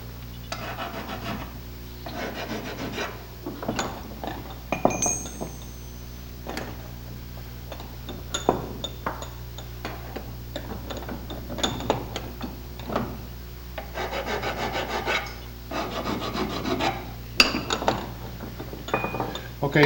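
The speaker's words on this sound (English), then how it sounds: "after we finished filing the edges on all the connecting rods, I'm going to do the same thing to the rod caps." Edges of connecting rod caps being filed during rod reconditioning, giving repeated scraping strokes in uneven bursts with occasional metallic clinks as parts are handled, close and steady throughout.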